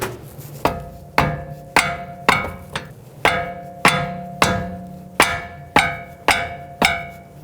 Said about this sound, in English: I'm gonna grab a rubber mallet and tap that wrench